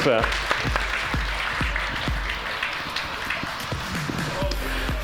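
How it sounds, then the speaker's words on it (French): Audience applause for the officials at the closing ceremony of the Verdun Joystick Players 2026 event, steady clapping with sharp individual claps standing out and a voice talking over it. "On peut encore les applaudir bien fort."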